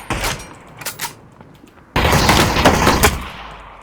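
Gunfire in the video game Ring of Elysium: a few sharp shots, then a loud, sustained automatic burst that continues to the end, close and harsh.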